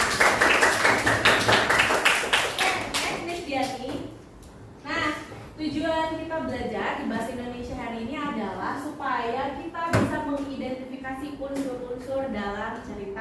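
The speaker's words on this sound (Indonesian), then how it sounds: "tepuk tangan dulu untuk semuanya" Students in a grade 6 classroom clap together in a quick burst of rapid claps at the start, after which a voice keeps talking over the quiet room.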